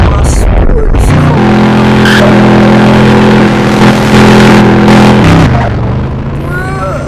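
Sports car in the Roblox game Greenville, engine revving with a steady droning tone, then braking with a skidding screech toward the end as the sound tapers off, with a faint voice in the background.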